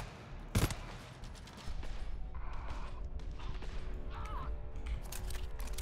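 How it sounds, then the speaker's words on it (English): Gunfire in the video game GTFO: one sharp, loud shot, then a stretch of dense rattling fire and crashing noise under a low rumble, with faint voices in the mix. "Have to use a gun."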